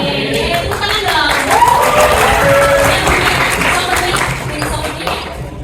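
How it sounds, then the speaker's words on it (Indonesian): An audience in a university hall claps in a loud burst that swells and then tapers, with voices talking over the clapping. "Tepuk tangan dong."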